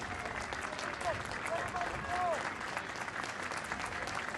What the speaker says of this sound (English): And there goes Cruz to a good round of applause